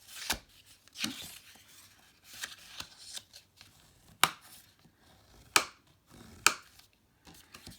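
Burnishing score lines on a paper gift card box: a series of short, sharp scraping strokes, close and fairly soft, coming in irregular bursts with brief pauses between them.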